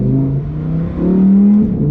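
A deep, muffled exhaust from a Lamborghini Huracán Tecnica in Corsa mode, baffles shut, burbles at low revs, holding a steady drone with a slight rise in pitch partway through.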